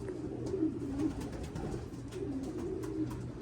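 Doves coo in a low, repeating rhythm close by, the soft calls rising and falling over a steady outdoor background.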